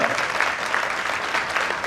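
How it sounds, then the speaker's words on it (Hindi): An audience applauds the performers after a stage play, a steady mass of clapping held at an even, moderate level with no voices over it. "एक बार फिर से ताली बजा के सभी कलाकारों का"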